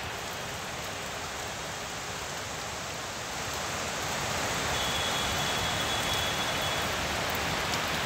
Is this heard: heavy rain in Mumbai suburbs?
yes